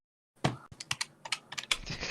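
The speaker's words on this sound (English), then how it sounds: "the click of a calculator" Calculator keys click sharply in a quick, uneven run of about a dozen taps, close and faint with no talk.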